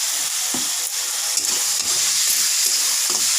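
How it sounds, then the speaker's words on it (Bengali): Bottle gourd and prawn curry frying and being stirred in a pan, a loud continuous close sizzle with repeated soft scrapes and stirring strokes throughout, no voices. "কিছু সময় নেড়ে চেড়ে নেবো, জলটা হালকা টানতে হবে"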